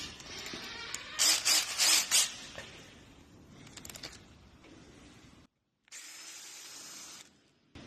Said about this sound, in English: let's drill this latch out.